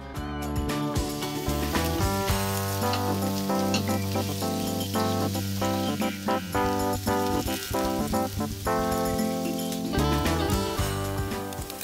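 Vegetables sizzling in a hot pan over a gas flame outdoors, a steady, loud, continuous frying hiss with light clinks and stirring, no talking.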